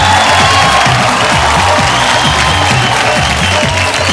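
A studio audience at a Bhojpuri singing reality show claps loudly and continuously, welcoming the singers with dense, steady applause and a few scattered cheers.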